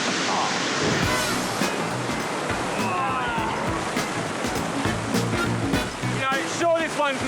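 A steady, loud broadband roar of falling water from a secluded waterfall and waterhole, smaller than nearby falls, filling the whole stretch with a few voices faintly over it.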